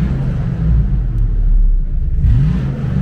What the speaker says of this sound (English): The motor's running great.